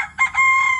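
A gamecock for cockfighting crows once, loud and close, in a short, bright call with no voices.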